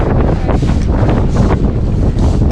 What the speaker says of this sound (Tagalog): nagsisimula ng umambon at lumalakas ng hangin